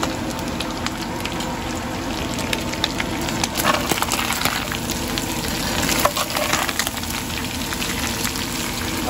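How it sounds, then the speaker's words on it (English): Onions and spices sizzle in a pan, a steady, close crackling hiss with scattered pops and bubbling that holds throughout. "We're about ready for the onions. Get a healthy dose of onions in there."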